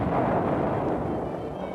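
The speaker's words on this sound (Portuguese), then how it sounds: "Não conseguiram implodir uma ponte. Muito barulho e poeira." A dull, roaring blast from a failed attempt to implode a bridge in Recife, Brazil, in 1978, heard as a loud, broadband rumble that holds steady, with no voices.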